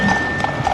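A single horse's hooves clip-clop on pavement at an inaugural parade rehearsal, a few quick close strikes in a brief burst.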